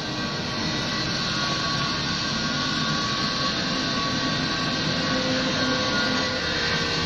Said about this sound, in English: We are back to the tire, we can even hear it being pumped